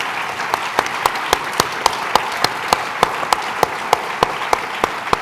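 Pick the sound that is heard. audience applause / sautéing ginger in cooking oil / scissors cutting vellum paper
audience applause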